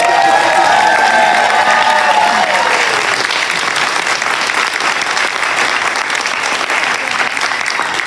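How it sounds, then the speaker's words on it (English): Loud, sustained applause from a large crowd at a get-out-the-vote rally in Maryland, dense clapping with scattered cheers filling the space continuously. "can we please give a huge round of applause to Tazim, your remarkable leadership."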